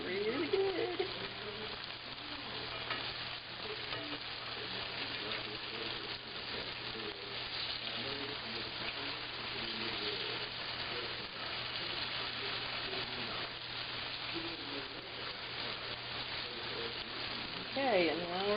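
Venison backstrap chicken fried steak frying in a pan of hot oil, a steady, even sizzle and crackle running the whole time at moderate loudness, with a faint voice near the end.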